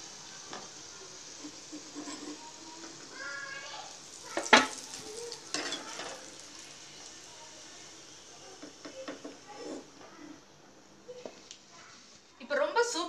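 Suzhiyam sweets coated in maida batter frying in hot oil, a soft continuous sizzle with clinks of a utensil against the pan, a voice talking over it now and then.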